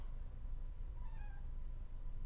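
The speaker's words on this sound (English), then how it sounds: "my cat's meowing at me, hello Toffee" A pet cat meows once or twice at moderate distance, a faint, short cry rising over a steady low engine drone from a flight game playing in the background.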